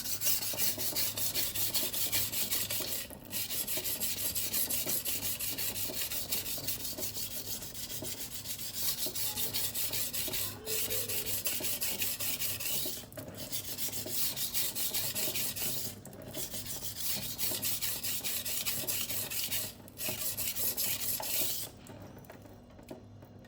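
A kitchen knife being sharpened on a 240-grit silicon carbide stone: long steady rasping strokes repeated close up, with brief pauses between passes and no talking.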